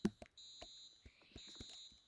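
A fire alarm sounds in the Roblox game Brookhaven, a faint high electronic tone that holds steady and repeats, broken by soft clicks and taps.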